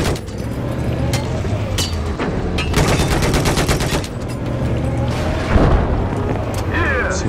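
Rapid gunfire bursts from Battlefield 4 combat during a tank battle, with repeated automatic volleys and heavy booms over a continuous loud battlefield din, some shots standing out sharply against the dense background.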